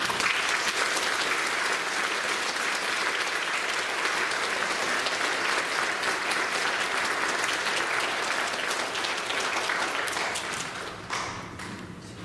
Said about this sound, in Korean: 큰 박수로 우리 목사님 환영하도록 하겠습니다